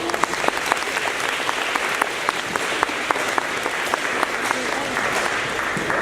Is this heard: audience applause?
yes